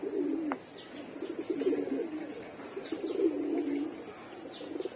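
Several stray female pigeons coo repeatedly while feeding at a home, their low throaty calls rolling in overlapping phrases close by, with no voices.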